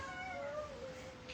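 Cats meowing indoors in a house full of cats, a long drawn-out meow gliding downward in pitch, loud and close, with no talking over it.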